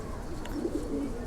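Female pigeons in a loft cooing softly in a low, repeated murmur over steady background hiss, with a few distinct coos clustered near the middle.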